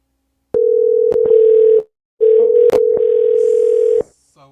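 A phone call being placed: two long steady tones with short clicks, cut off abruptly, then a brief higher tone at the end.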